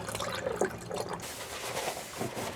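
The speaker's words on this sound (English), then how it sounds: "Don't forget about your shower drain. It needs a little antifreeze as well" Antifreeze is poured into an RV shower drain during winterizing, a soft liquid gurgle and splash that is faint and steady and slightly shifts in tone partway through.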